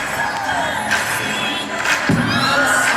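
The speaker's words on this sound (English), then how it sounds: "I love how people don't stop clapping." Concert crowd clapping and cheering steadily throughout, a dense roar of applause and shouts with a thud partway through.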